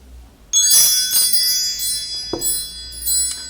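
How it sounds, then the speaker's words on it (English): Wind chimes are struck sharply and ring out with bright, shimmering metallic tones that overlap and sustain, with a few further strikes as the ringing slowly decays, close and loud with no talking. "Let's call in spirit with some wind chime time."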